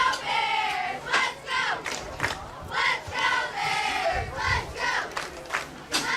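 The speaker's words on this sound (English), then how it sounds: "Hopefully y'all can hear some of the crowd noises and the cheerleaders" A roaring crowd and chanting cheerleaders at a high school football game against Battle Creek fill the air with loud rhythmic shouts in repeated bursts, dense and continuous throughout.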